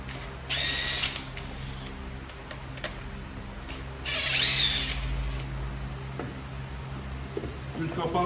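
A power tool whirs in two separate bursts of about a second each while backing screws out of the top cover of a seized Bolat Atak BS570 motorcycle engine, close by, with someone talking between bursts.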